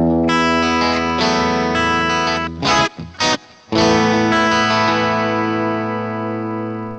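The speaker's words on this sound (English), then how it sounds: "here's what it sounds like on clean for" Clean guitar played through a Roland GR55 guitar synthesizer with amp simulation and effects, sustained chorused chords ringing out, with a few short choppy stabs in the middle before a long held chord decays.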